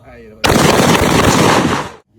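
A short-barrelled shotgun fires one loud, close blast whose roar and echo fill about a second and a half before cutting off into silence.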